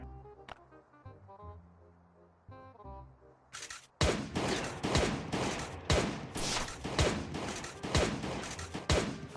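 Gunfire from the mobile survival game Last Day on Earth: Survival bursts in after soft game music: loud, rapid, repeated shots crack in a sustained volley against raiders.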